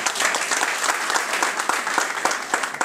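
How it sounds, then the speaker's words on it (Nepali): An audience at a DXN Teej celebration applauds loudly, a dense burst of many hands clapping steadily throughout. "डाक्टर लिम्सियोजिन, उहाँहरुलाई हामी सम्पूर्णले एक पटक जोरदार ताली।"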